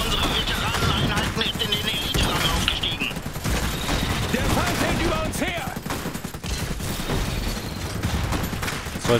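Dense, sustained gunfire from the strategy game Iron Harvest, a loud continuous battle din of rapid shots and impacts running the whole time, with a German voice speaking over it.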